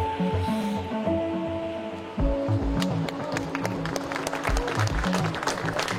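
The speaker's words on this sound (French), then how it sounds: "J'aime bien les moments où ça applaudit" Crowd applause and clapping at a fishing world championship, a steady rattling wash that swells around the midpoint, with sustained musical or hum tones underneath and brief voices mixed in.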